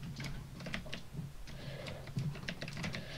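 Steady keyboard typing and mouse clicks during a Rocket League match, with quick irregular taps near the mic and a low background hum, no talking.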